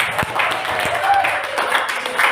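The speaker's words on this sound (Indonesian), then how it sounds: "Sekali lagi kita kasih tepuk tangan dong." An audience at a school event gives a round of applause, heard as steady, moderately loud clapping that continues throughout, mixed with some voices.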